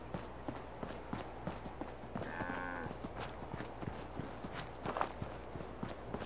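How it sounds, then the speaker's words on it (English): A cow in a Fallout-style wasteland video game gives a low moo mid-clip amid repeated close footsteps and soft game ambience. "There's your cow."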